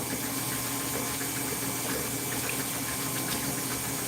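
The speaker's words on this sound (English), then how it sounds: "I really love the mixers because all you do is put it in and it does all that turning, that spinning" Electric mixer whirring steadily as it spins, a constant droning hum with a faint sloshing texture, close and uninterrupted.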